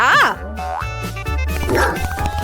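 Cartoon dog yips and barks in quick, springy, pitch-bending bursts, loud and close amid bouncy sound effects in an animated kitchen challenge cartoon.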